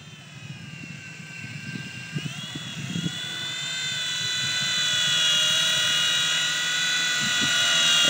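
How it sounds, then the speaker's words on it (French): A small V911 Pro radio-controlled helicopter flying nearby, its high whining rotor tones rising in pitch and holding steady, growing louder as it speeds up, with light handling noises early on. "Il est excellent ce hélico, j'adore le piloter moi"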